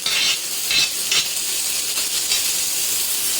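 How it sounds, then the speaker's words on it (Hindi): Tomatoes sautéing in a pan over a medium flame, a steady close sizzle and hiss with a few brief stirring scrapes, no talking. "और थोड़ा देर इसको सौटे कर लेंगे टमाटर डाल कर"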